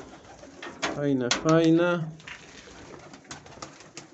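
Pigeons coo in a Polish loft housing Vienna flying pigeons and silver birds, a close burst of throaty rolling coos lasting about a second, followed by quieter rustling while someone speaks briefly.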